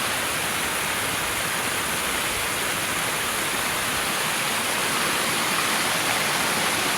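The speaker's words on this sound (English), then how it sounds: "Water running over the spillway." Water pours over the spillway of a century-old hydroelectric plant, a constant, dense rushing roar that stays loud and even throughout with no other sounds.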